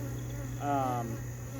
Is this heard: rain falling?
no